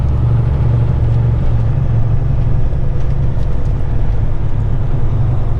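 A Kenworth heavy truck engine pulling uphill at raised RPM, a steady loud low drone heard from inside the cab, constant and unbroken, with no talking.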